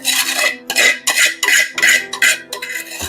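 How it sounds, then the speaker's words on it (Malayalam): A spoon scraping and stirring raw masala paste in a hot pan for prawn curry, repeated loud metallic strokes in an uneven rhythm with brief pauses between them and no talking. "ഇത് നമ്മൾ നന്നായിട്ട് ഇളക്കി മൊരിയിക്കണം"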